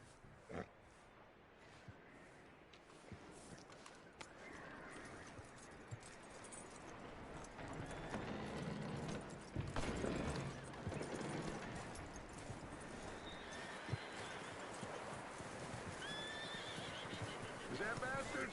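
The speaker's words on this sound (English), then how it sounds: "That looks like a decent horse." A horse in the Red Dead Redemption 2 video game whinnies and neighs several times, with hoof clip-clop among the ambient game sound and someone speaking calmly to the horse.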